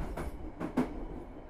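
A KA Kutojaya Selatan train passing Nagreg station, heard from on board as a steady low rumble with a few brief clacks of wheels over rail joints.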